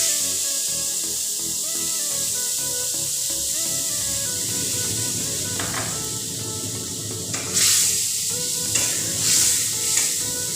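A paste of tomato, ginger and green chili sizzles steadily in a hot pan while being stirred, with louder hissing bursts toward the end.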